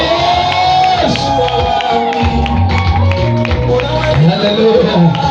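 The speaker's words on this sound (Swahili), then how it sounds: "Ongeza makofi na vigelegele kwa Yesu." A church congregation at an engagement ring ceremony applauds and ululates. Dense, loud crowd noise carries steady clapping, high trilling cries and whoops, with voices mixed throughout.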